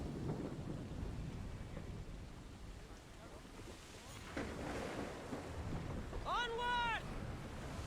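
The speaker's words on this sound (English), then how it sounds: "tinha que logo vir aqui uma chuvada do caralho" Thunderstorm with heavy rain at sea in Assassin's Creed, rumbling thunder and a dense wash of rain and wind around a sailing ship, with a brief warbling cry near the end.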